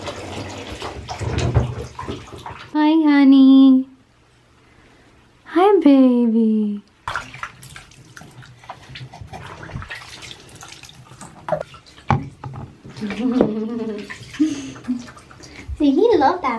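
A baby is bathed in a tub, with water splashing and trickling under close adult talk and a few high baby vocal sounds.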